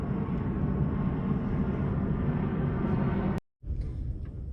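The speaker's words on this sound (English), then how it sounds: "hold on, there's a plane going over." A passing airplane overhead, heard from a truck cab window beside a highway exit: a steady, loud broadband roar holding throughout, with a brief dropout near the end before it resumes.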